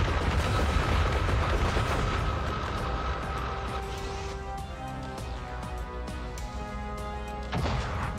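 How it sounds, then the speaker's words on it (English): Laser weapon firing in the space game Worbital, a loud sustained roar with droning tones and rumbling blasts that continues for several seconds. "when this aligns, I can fire the"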